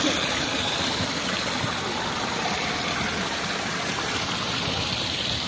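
Water pours through a wrecked computer shop, a loud, continuous rushing and gurgling flow that fills the whole stretch with no talking.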